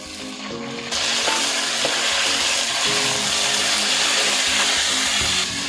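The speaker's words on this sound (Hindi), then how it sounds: "चिकन को इसमें प्याज में अच्छी तरह भून लेंगे ताकि इसकी स्मेल खत्म हो जाए।" Chicken frying with browned onions in a pan, a loud steady sizzle that swells suddenly and then holds close and constant, with faint clinks of stirring and no voices.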